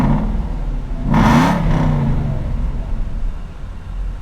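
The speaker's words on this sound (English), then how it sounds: "This is like the epitome of that classic V8 sound." A 2007 Aston Martin V8 Vantage engine revs up sharply in a loud, close burst of throaty rumble, then drops back to a steady, burbling idle.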